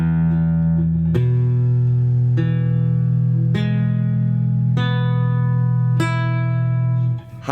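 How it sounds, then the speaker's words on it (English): An Ibanez Bolero nylon-string guitar, plugged in with reverb, sounds six single strings one after another, each plucked note ringing out evenly and sustaining loudly until the next. "Listen to each string."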